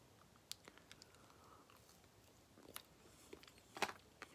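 A Christmas tree brownie with frosting is bitten into, giving a few faint, close crunching and chewing sounds scattered over a quiet background.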